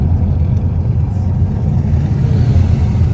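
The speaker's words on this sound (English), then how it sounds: "It's loud because we have the windows down, okay? And the wind and the driving." Steady, loud low rumble of a car on the move in Accra, Ghana, with heavy wind buffeting through open windows, continuous throughout.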